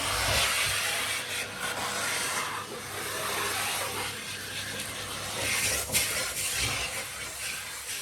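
A continuous rough hissing scrape of sanding against a wall, steady and close, with slight swells in intensity.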